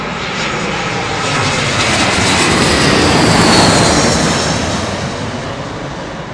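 An airliner lands at London Heathrow in a slight crosswind, its loud engine roar swelling to a peak near the middle and then easing slightly as it passes close by.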